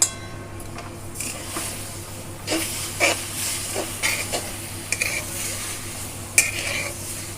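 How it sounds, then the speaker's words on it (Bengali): Raw green mango and sugar are stirred together in a pot, giving a steady scraping, sizzling hiss with irregular clinks and scrapes of the spoon against the pan, close and fairly loud, with no talking. "আগে একটু ভালো করে আমটা চিনিটা মিশিয়ে নিচ্ছি।"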